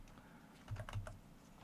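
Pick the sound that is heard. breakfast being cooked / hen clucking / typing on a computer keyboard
typing on a computer keyboard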